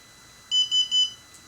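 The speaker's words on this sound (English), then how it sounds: "The unit beeps." A BlueSkySea B1M motorcycle dashcam gives three quick high-pitched electronic beeps at startup, close and clear against near silence.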